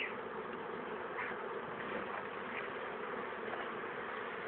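Honeybees at an opened beehive make a dense, continuous buzz, close and steady, with individual bees droning past now and then.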